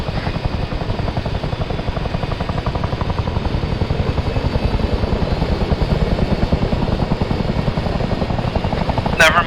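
A Wildcat helicopter in the military game Arma 3 flies with a constant, loud rotor chop, rapid even blade thumps over a heavy engine whine, steady throughout with a brief sharp sound at the end.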